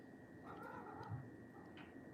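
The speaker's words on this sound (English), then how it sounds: "my cats are going crazy right now" Indoor cats crying and caterwauling: a few faint, strained meows and yowls rise over a quiet room hum with a steady high tone, with no one speaking.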